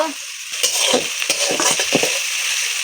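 Whole cumin seeds hit hot oil for a mutton curry, giving a steady crackling sizzle broken by a few stirring scrapes, close and fairly loud with no talk.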